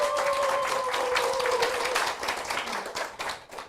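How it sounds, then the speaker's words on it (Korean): Applause from a lecture hall audience welcoming a laughter-therapy professor for a humanities talk, a full, continuous roll of many hands with a faint sustained tone beneath it, thinning slightly toward the end. "여러분 큰 박수로 맞아주시면 고맙겠습니다"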